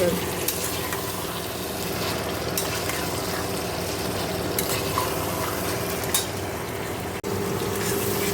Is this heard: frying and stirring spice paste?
yes